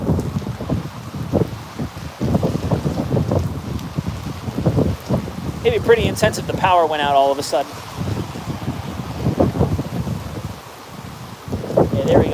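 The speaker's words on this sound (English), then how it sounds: "Yeah, now we got a really good gust coming through." Strong wind gusts of a tropical storm in Tampa Bay roar as broad, sustained rushing noise with microphone buffeting, while someone talks over it almost throughout.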